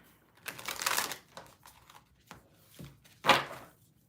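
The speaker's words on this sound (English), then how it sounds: "I apologize for having to look down at the table and away from the camera as I'm shuffling these cards" A deck of oracle cards is shuffled on a table in soft, uneven bursts of riffling and tapping, close and quiet, with a sharper slap near the end.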